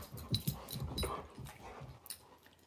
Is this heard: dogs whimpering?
yes